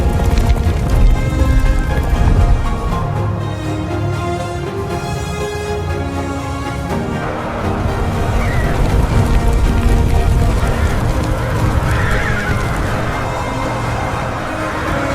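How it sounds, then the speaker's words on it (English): A herd of horses stampedes toward a cliff edge, a dense, continuous rumble of galloping hooves that stays loud and close throughout, with faint whinnies rising now and then. "When the lead horses reached the cliff's edge, the pressure from thousands behind created an unstoppable force"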